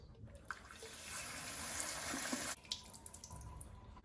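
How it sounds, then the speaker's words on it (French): Cold tap water runs steadily over cooked eggs in a pan, a close, even rush of water that briefly changes tone as the flow shifts. "Je sors mes œufs du feu. Je les passe à l'eau froide."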